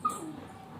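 A young child imitates a dog with a single short, high yelp followed by a thin, fading whine, quiet and close, with no other talk.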